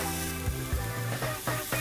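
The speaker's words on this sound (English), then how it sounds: "I love that sizzling noise." A steak sears in a very hot pan with a loud, steady sizzle, punctuated by a few brief crackling pops and shifts as the meat settles.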